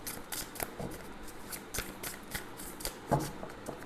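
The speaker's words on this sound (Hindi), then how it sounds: "आफ्टर 3 शफल हम कार्ड्स को निकालेंगे" A deck of tarot cards being shuffled up close, a quick series of soft flicking riffles and papery slaps in an uneven rhythm, fairly quiet.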